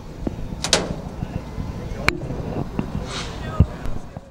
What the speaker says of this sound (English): You go ahead, open the doors, and here's your filters for the engine inlet.